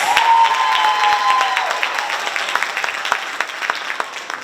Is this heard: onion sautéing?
no